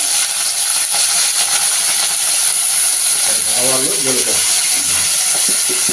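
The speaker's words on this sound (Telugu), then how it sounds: "నెక్స్ట్ వెల్లుల్లిపాయలు వేసుకున్నాము, తర్వాత ఎండుమిర్చి, తర్వాత కరివేపాకు" Garlic, dried red chillies and curry leaves sizzle in hot oil as a loud, continuous hiss, with a brief voice-like murmur partway through.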